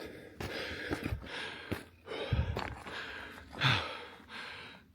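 Heavy, ragged breathing from a hiker on a steep climb up an old volcano, with close, effortful gasps and sighs in irregular bursts and no talk.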